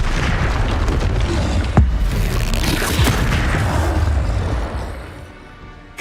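Continuous roaring blast and rumble from Incendio and Confringo fire spells in Hogwarts Legacy, a dense loud wash with a sharp pop near the middle that fades toward the end.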